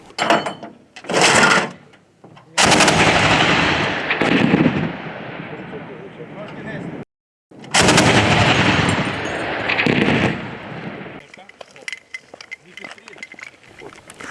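A twin-barrel anti-aircraft gun fires several long, very loud bursts of rapid shots, each burst running for seconds with short breaks between them, followed by fainter distant rumbling.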